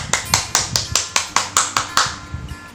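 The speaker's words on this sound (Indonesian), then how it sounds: "Tepuk tangan dulu dong, tepuk tangan dulu." A quick run of about a dozen sharp, evenly spaced claps by children at a kids' church service, close and crisp, with a brief pause before a couple of final hits.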